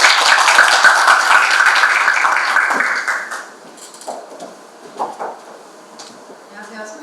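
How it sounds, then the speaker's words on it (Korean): Audience at an education conference clapping to welcome a speaker, a broad crowd applause for about three seconds that fades out, followed by scattered small knocks and room noise. "네, 박수로 맞이해주십시오"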